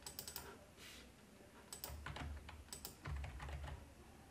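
Close, quiet keystrokes on a computer keyboard come in short bursts of rapid clicks separated by brief pauses.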